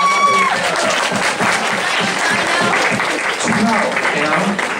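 Audience applause at a DAiCon 2013 costume contest, a crowd clapping steadily for several seconds with some chatter and voices mixed in.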